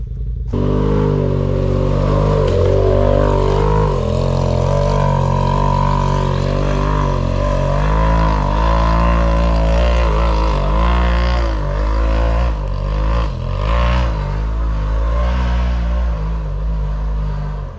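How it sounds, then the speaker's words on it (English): An off-road vehicle climbs a hill on the Ivy Branch trails at Hatfield and McCoy, West Virginia, its engine droning loud and close with rising and falling revs for the whole stretch. "He took a ride with Josh up this hill."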